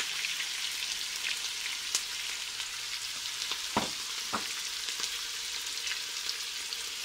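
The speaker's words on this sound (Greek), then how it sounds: "Τώρα βάζουμε το κρεμμυδάκι. Θα σοτάρουμε το κρεμμυδάκι." Chopped onion sautéing in a hot pan gives a steady, close sizzle with occasional sharper crackles and a few brief stirring clatters, with no voices.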